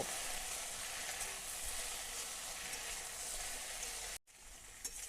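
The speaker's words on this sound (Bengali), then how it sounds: "মশলার সঙ্গে ভেন্ডিগুলোকে আরও এক মিনিটের মতো আমি ফ্রাই করে নিয়েছি" Okra frying with turmeric, salt and spices in a pan, a faint, even sizzle that cuts out abruptly for a moment before resuming.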